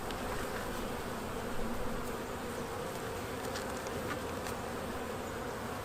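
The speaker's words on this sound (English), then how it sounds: "This is lots of bees." A dense, continuous buzz of many honeybees inside an opened hive, close and steady, with an occasional louder bee darting near; no talking.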